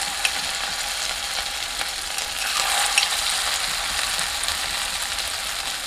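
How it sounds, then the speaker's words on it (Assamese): Chicken kofta meatballs fry in hot oil, giving a dense, steady, close sizzle and crackle that continues without talk. "ইয়াতে কোফটাখিনি ফ্ৰাই কৰিব লাগিব"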